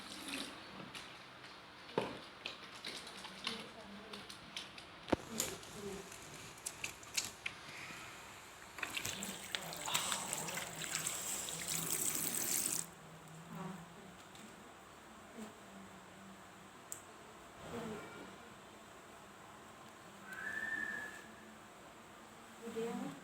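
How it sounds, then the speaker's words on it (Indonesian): Hands are washed under a running tap in a clinical setting, with a faint, intermittent trickle and splash of water, a louder stretch of flowing water midway, and scattered clicks and handling noises. "Dan cuci tangan 6 langkah."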